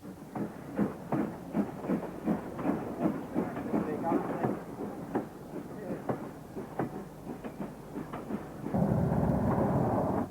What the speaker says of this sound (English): Fairburn 264 tank engine, number 42079, on this soccer special